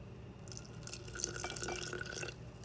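A thin stream of room-temperature water pours and splashes into a bowl of bread dough close by, quiet and steady for a couple of seconds.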